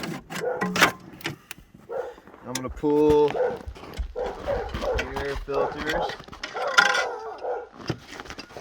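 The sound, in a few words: dogs barking at someone walking down the street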